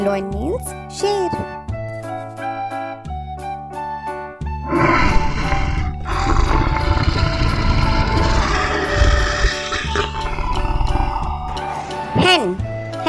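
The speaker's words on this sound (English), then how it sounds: "Lion. Lion means sher." A lion roars in a loud, rough burst lasting several seconds, set against steady background music.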